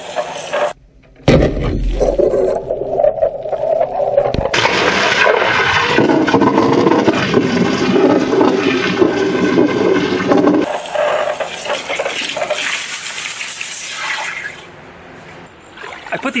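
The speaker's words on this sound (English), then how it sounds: "I mean, it just exploded when it hit the water." Molten pewter fired into a fish tank of water bursts with a loud, sustained violent hiss and roar that churns for over ten seconds, then fades off, with sharp splashy crackling near the start.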